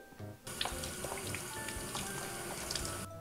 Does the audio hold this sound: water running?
yes